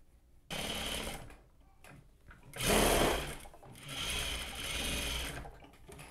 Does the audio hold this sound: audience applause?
no